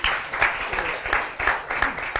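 Applause from an audience at an Italian event, a dense patter of clapping hands that rises and falls in quick uneven bursts, close and fairly loud, with no voices over it.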